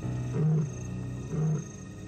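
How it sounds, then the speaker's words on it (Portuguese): A lion roars twice in the African wild, each deep, throaty roar swelling and fading about a second apart, loud and close, with no talk over it. "O rugido do leão lhe amedronta."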